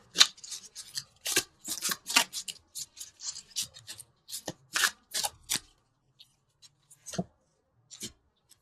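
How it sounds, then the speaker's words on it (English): Tarot cards are shuffled and pulled close up in bursts of crisp riffling and sliding. Rapid papery scrapes come in clusters, then thin out into a few isolated taps and slides. "let's pull a couple universal love cards"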